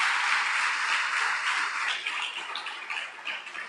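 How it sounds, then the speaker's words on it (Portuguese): A church congregation claps loudly and steadily, a dense roar of applause that thins and turns patchier toward the end. "Então dê um forte aplauso ao Senhor"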